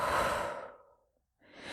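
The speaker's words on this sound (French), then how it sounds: "et souffle fort." A forceful exhale blows out breath in one long, loud whoosh that fades to silence, then another breath begins, as part of a guided breathing exercise.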